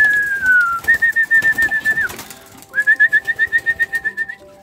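Close, steady whistling tones in two long runs with a short gap between them, rising and falling slightly, set against a light background murmur; heard as female homing pigeons are released for their daily home flight.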